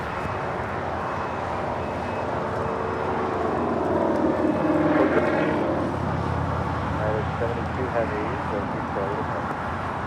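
Emirates Airbus A380 on short final landing on runway 24 right at LAX, a broad steady jet roar swelling gently toward the middle, heard from a distance with a faint voice talking over it.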